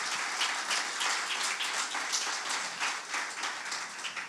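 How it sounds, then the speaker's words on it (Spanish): A church congregation applauds the Lord during a Spanish-English sermon, a moderate wash of clapping that holds steady throughout with no speech over it. "Te da un aplauso al Señor."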